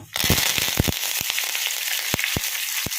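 Curry leaves hit hot oil with dried red chillies, sharp spattering crackles and pops over a constant hiss, loud and close, tempering for palak sambar.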